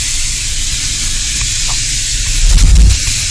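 Chopped onions hit a hot kadai for beef keema with a steady loud hiss and sizzle that surges briefly near the end, with no voices.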